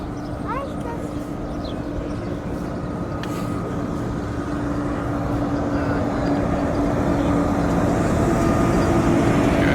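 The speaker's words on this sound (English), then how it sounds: "Oh, here's the train." A train rumbles past in Can Pastilla, Mallorca, with a steady, building roar and a sustained low hum, continuous and fairly close throughout.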